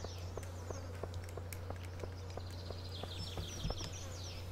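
Insects chirp in a summer scene of the Stardew Valley video game, faint repeated clicking chirps over a low steady hum with soft birdlike trills, no talk.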